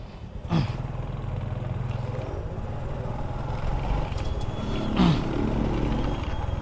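A delivery rider's motorcycle engine drones steadily while riding out, with the note swelling twice as the throttle opens, loud and close throughout.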